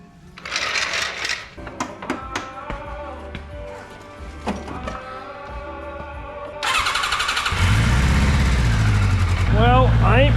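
A 1982 Kawasaki KZ1000 four-cylinder motorcycle, left sitting for 35 years, cranks with the starter and then catches, settling into a loud steady close-up running engine that fills the second half.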